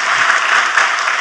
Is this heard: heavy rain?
no